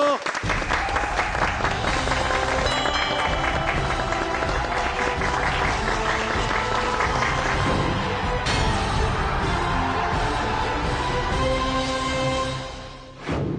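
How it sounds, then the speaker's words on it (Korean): Studio audience applause on a Korean television talk show as a natural-food cooking expert is welcomed, a loud sustained burst of clapping that fills the room and fades out at the end. "여러분 박수로 모셔볼까요?"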